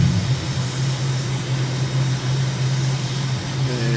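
Airplane engine at takeoff power in Microsoft Flight Simulator, a steady loud drone with a strong low tonal hum that holds throughout the climb-out, with no talking over it.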